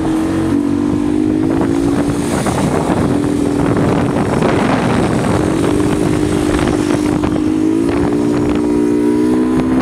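A motorcycle engine runs with a steady droning note that shifts slightly in pitch, heavy wind buffeting the microphone, out on the street during celebrations after Morocco beat Belgium.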